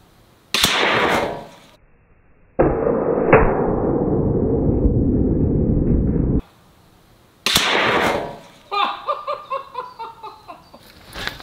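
EK Adder pistol crossbow shooting bolts: sharp loud snaps with a ringing twang, separated by a few seconds of steady broadband noise, then a final crack followed by laughter.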